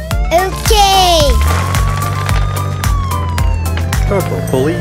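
A cartoon police car siren wails with rising and falling tones over bouncy children's song music, loud and continuous, with voices heard in the mix.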